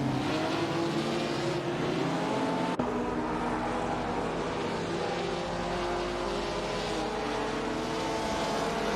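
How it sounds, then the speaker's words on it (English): Race cars from the 1950s sports car era drone around a track in a racing video game, their engines blending into a continuous, fairly quiet roar with a brief click near the start and no talking. "We just witnessed some intense racing action on the track."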